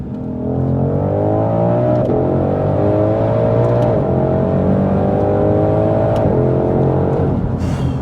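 A Ford Mustang Shelby GT500 engine revs steadily and climbs in pitch, dropping briefly at each of several gear shifts, loud and close throughout.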